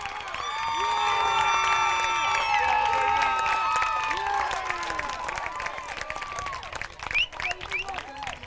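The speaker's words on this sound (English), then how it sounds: "The home crowd loves it." A home crowd at a 4A regional high school softball game cheers and applauds a walk-off win, loud sustained clapping and shouting that swell early and slowly thin out, with a few whistles near the end.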